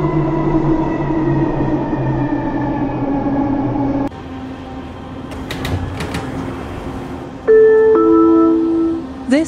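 A 1995 Bombardier ITCS Mark 1 SkyTrain car on the Expo Line runs with a steady rumbling hum and motor whine, then drops in level, with brief clunks and a loud tonal chime or beep sequence near the end.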